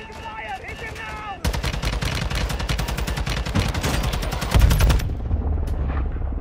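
A military video game mission erupts in rapid automatic gunfire. Dense, fast, rattling bursts run for several seconds with a heavier boom near the end, and a voice talks faintly at the start.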